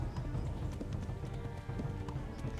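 A horse's hooves pound in a steady galloping rhythm in Kingdom Come: Deliverance, close and prominent over a low rumbling backdrop.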